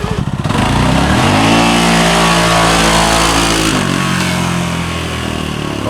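A CFMOTO engine fitted with an MSC Stage 2 clutch kit, CVT belt cover off, revs up loudly and whines steadily, running alone close by.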